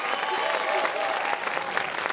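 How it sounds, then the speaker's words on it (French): Audience applause at a Paris award ceremony for the Charles Proust prize, a steady dense clapping from a crowd holding even throughout. "faites chauffer les applaudissements"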